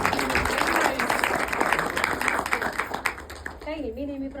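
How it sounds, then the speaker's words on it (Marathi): Audience clapping at a film trailer launch event, a dense burst of applause that thins out toward the end as a voice begins speaking. "एकदा जोरदार टाळ्या"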